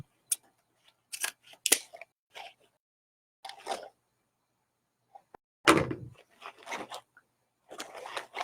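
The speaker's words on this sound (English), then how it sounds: "Do it with the scissors." Quiet, scattered snips of scissors trimming a wreath, with a few sharp cuts separated by pauses and some soft handling noises in between.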